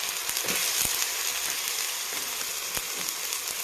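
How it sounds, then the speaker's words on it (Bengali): Onions frying in oil in a home kitchen give a continuous close, loud sizzle, with occasional light clicks of stirring against the pan. "পেঁয়াজটা ভাজা ভাজা হয়ে গেল"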